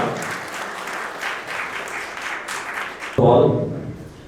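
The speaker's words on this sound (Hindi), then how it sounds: "जोरदार तालियों के साथ स्वागत कीजिए" Audience at an Independence Day celebration of a defence academy in Dehradun claps to welcome the academy's director, steady applause for about three seconds, then cut off abruptly as a louder voice begins speaking.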